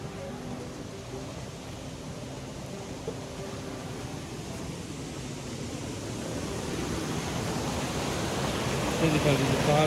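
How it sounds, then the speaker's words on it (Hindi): Mountain water rushing down into a river near Mana village, Uttarakhand, a steady broad roar that swells louder toward the end, with faint voices underneath. "पहाड़ों से पानी आ रहा है और फिर नीचे नदी में जाकर मिल रहा है"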